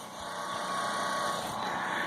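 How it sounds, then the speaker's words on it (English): A nearby tractor engine runs with a steady, buzzing mechanical drone and faint vibration, holding an even level throughout with no voices. "Hey, the tractor, wow, that's a little close."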